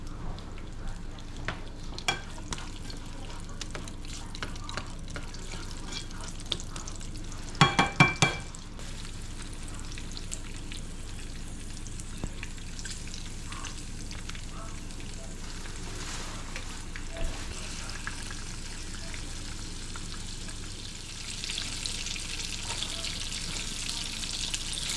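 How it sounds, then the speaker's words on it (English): Trout rolled in flour frying in salt pork in a pan at a remote lake camp, a steady close sizzle running throughout, with a brief clattering burst early and a brighter hiss toward the end. "Going to put some salt pork here now, roll the fish in flour, and get to frying."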